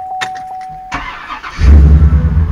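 A truck engine cranks and catches, settling into a loud rumbling idle with a squeaky pulley whining, preceded by a few clicks and a steady electronic tone.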